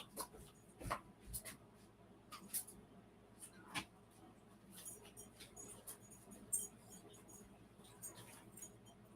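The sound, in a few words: dog scratching and tearing at floor covering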